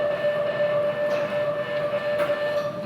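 A train rumbles as it starts to move, heard from inside with a steady low rolling noise and a constant high electrical whine running underneath.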